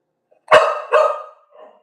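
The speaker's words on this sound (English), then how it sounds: "That's my puppy Oya." A puppy gives two sharp, close barks in quick succession, followed by a fainter short yip, with silence between.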